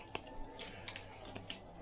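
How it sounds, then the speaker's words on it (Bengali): A trading card pack being unpacked gives a handful of brief, crisp crackles and snips spaced unevenly over a couple of seconds, faint and close, with no talking. "নেক্সট প্যাক আনপ্যাক করো"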